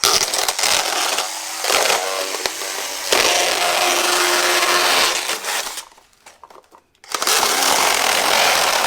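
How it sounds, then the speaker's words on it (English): A Bosch Nano Blade saw cutting open a plastic blister pack, a loud, steady buzzing whine that runs in long stretches, cuts out briefly near the end, then starts again close by. "This is my little Bosch Nano Blade."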